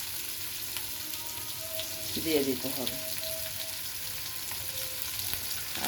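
Lauki and fish-head muri ghonto cooking in plenty of mustard oil in a pan, giving a steady low sizzle throughout with a brief louder stirring burst in the middle while a voice speaks briefly.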